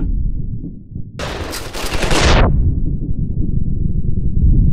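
A shotgun fires buckshot in the video game Ravenfield, producing one loud, sharp blast with a short, harsh burst that cuts through a low, rumbling background, then fades back to the steady backdrop.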